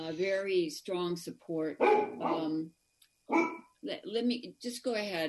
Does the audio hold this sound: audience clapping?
no